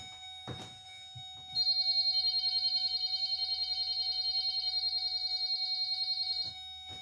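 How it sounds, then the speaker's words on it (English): A school bus's no-sleeping-children alarm sounds once the bus is switched off, giving a loud, rapid, high electronic pulsing beep that runs steadily for about five seconds before stopping, with a thump just before it starts. "I'm going to go back and reset the no sleeping children alarm."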